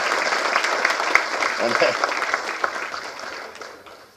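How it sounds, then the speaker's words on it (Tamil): Audience applause for a great-grandson at a Tamil film audio and trailer launch event for Kaduvetti, dense clapping from a crowd sustained for about four seconds, tapering off near the end, with voices mixed in. "கொள்ளு பேரனுக்கு ஒரு கைத்தட்டு"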